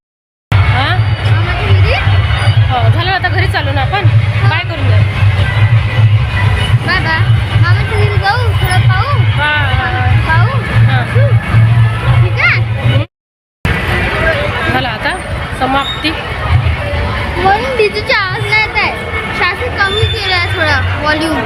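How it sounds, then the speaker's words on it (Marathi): Dense crowd noise at a Ganpati immersion procession in Vidarbha, with a loud DJ sound system pounding a steady low beat under constant chatter and shouting, and a brief cut near the end. "इथे लायटिंगचा आवाज आहे सोबत माणसांची गर्दी आहे आणि सोबत डी जेचा एवढा आवाज आहे"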